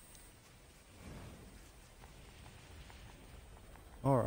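Soft, steady rain hisses through a ruined area in the video game Nier Automata, faint and continuous, with a brief voice breaking in at the end.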